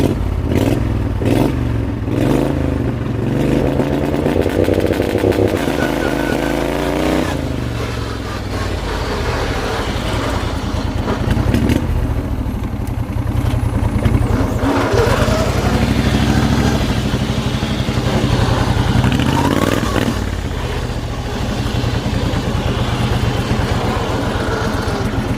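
A racing lawn mower engine revs hard against a two-step rev limiter. It makes loud, continuous, popping engine noise close to the listener for the whole stretch, with repeated bursts that rise and fall.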